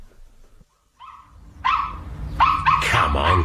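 A dog barks close by in a radio drama scene, several sharp yapping barks that rise in the second half, loud and clear over a quiet background.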